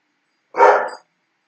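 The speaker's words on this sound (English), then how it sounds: "I'm going to grab my dog and try to get him to stop barking." A single loud, close dog bark, one short burst standing alone against silence.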